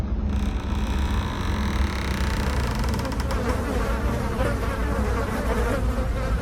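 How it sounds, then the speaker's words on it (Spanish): A thick cloud of flies buzzes steadily and loudly, a dense droning swarm that holds unbroken throughout with no other sounds over it. "salió una gruesa nube de moscas"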